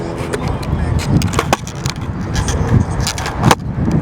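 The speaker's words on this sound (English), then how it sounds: "just ollie and land to a manual" A skateboard pops an ollie and lands into a manual, wheels rolling over pavement with sharp clacks of the tail and the landing, close and fairly loud throughout.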